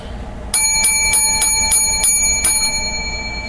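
A small bell rings seven times in a quick, fairly even series, each strike bright and sustained, then it lingers and fades over steady background hum.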